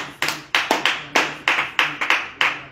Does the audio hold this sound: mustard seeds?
no